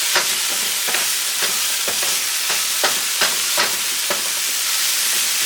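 Nopales and onions char in a pan for a vegan sofrito burrito, making a steady loud sizzle broken by regular scraping strokes as the vegetables are stirred, with no talk.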